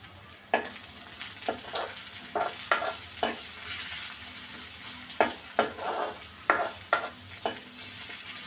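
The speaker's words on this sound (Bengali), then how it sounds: "মাছগুলো ভেজে নিচ্ছি। সব মাছ লাল লাল করে ভেজে নিলাম।" River popa (poya) fish fry in hot oil with a constant low sizzle, broken by about a dozen sharp scrapes and clacks as the pieces are stirred and turned, close by and without talk.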